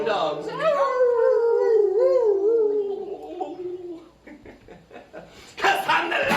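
Drawn-out, wavering howls rise and fall for several seconds, likely voices imitating dogs during a Celtic music show, followed by chuckling and a burst of noise.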